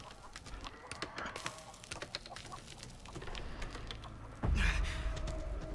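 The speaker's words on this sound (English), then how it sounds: "Damn, I hate this fucking chicken." A game chicken clucks and squawks in scattered bursts around a house in a horror setting, fairly faint at first, then a louder, close rush of noise near the end.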